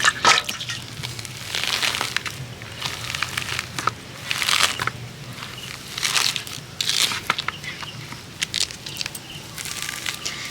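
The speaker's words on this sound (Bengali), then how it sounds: "গায়ের খোসাগুলোকে এইভাবে ছাড়িয়ে নিতে হবে" A ripe palm fruit has its fibrous skin peeled away by hand, giving repeated close crackling, tearing and crunchy scraping bursts in uneven strokes over soft background hiss.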